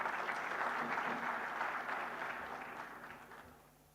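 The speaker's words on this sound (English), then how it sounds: "A big round of applause," A hall audience at a sustainability summit claps steadily in dense applause that gradually fades away toward the end.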